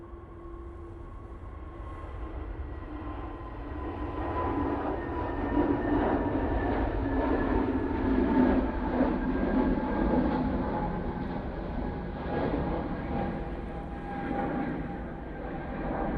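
An airliner at Manchester Airport on its takeoff roll for a flight to Geneva, a distant, steady engine roar with whining tonal hums that swells gradually toward the middle and then eases, heard alone.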